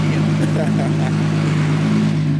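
A built 700-horsepower Nissan RB engine in an R32 Skyline revs steadily with a deep, constant drone and a strong low hum, with a person speaking faintly over it.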